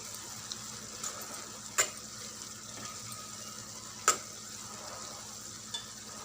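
Tomatoes and spring onion stalks cook in a pan with a soft, steady sizzle, punctuated by a few sharp clinks of a spoon against the pan.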